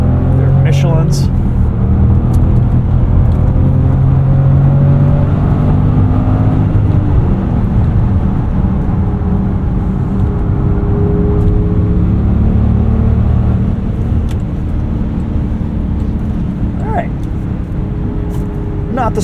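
A 2024 Range Rover Velar P400 in dynamic mode gives a steady, loud engine and road rumble from inside the cabin on a damp, greasy road with Michelin tyres, with someone talking over it most of the way.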